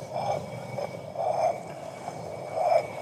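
Rotary quern grinding grain, a low rough stony rumble rising and falling in slow repeating swells as the upper stone turns, fairly quiet and close.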